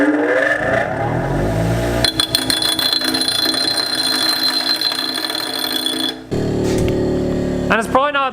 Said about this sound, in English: I guess we're about to find out if our non-mounted bench grinder is going to be capable of beveling these big pieces.